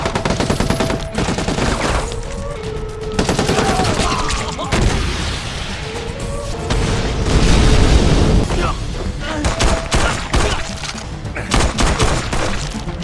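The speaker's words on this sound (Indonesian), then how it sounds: "Kemudian terjadi saling tembak. Melihat penjaga menghampirinya, Zheng Wu pun segera meledakkan mobilnya." A film shootout erupts with rapid bursts of gunfire and heavy booms from a car exploding, loud and dense throughout, while a narrator talks over the action.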